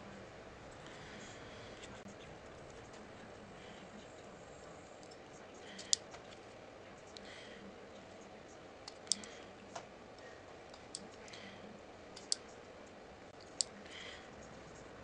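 Acrylic nail tips are trimmed with small, sharp clicks and snips, spaced irregularly over a quiet background with faint low murmuring.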